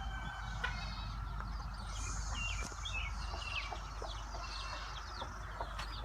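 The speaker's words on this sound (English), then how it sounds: "We have some chickens." Chickens on a farm cluck and chatter in a steady cluster of short calls against a quiet outdoor background, with no talking.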